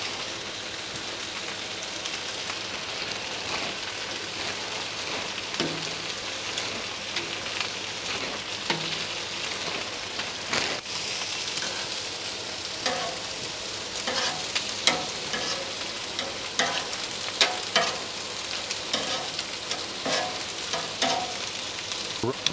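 Oil sizzles and crackles steadily across a hot Blackstone griddle, a dense, even frying hiss that runs throughout with scattered sharper pops and occasional scraping clatter, close up and with no talking.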